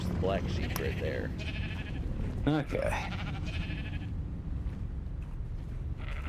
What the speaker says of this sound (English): There's the black sheep right there.